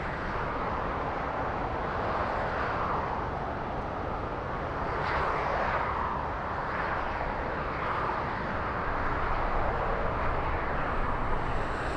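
A Qantas airliner, flight QF15 from Brisbane, passes at Los Angeles LAX airport with a steady, loud jet roar that stays broad and continuous without a break.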